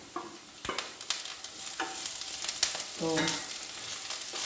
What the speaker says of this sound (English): both will fry together for 2 minutes